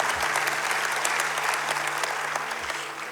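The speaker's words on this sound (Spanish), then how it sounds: "dale un fuerte aplauso a Él." A church congregation claps loudly and steadily for about three seconds, a dense unbroken burst of applause filling the room with no voices over it.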